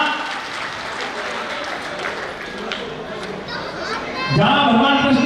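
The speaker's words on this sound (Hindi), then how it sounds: "एक बार दादा के चरणों में जोरदार तालियों से वंदन।" An audience at a religious festival gathering applauds loudly in a sustained wash of clapping with murmuring voices, and a voice rises over it near the end.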